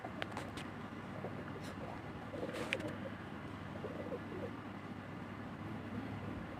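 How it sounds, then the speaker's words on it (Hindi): Pigeons in a village, including a black pigeon, coo in low repeated phrases amid scuffling from a fight, with faint chirps and steady outdoor background noise. "ये लड़ाई कर रहे हैं कबूतर।"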